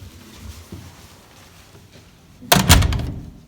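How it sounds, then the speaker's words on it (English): A hallway door is swung and shut, with quiet handling noise building to a solid thunk of the door closing near the end, close and fairly loud. "Here is a door that's in the hallway. Now, if I had to open and close this door, what would I do?"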